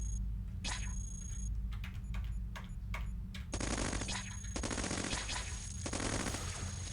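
EM shotguns firing in the Cogmind robot game, loud rapid electronic bursts in clusters, with sharp repeated blasts early on and then a sustained crackling barrage of shots.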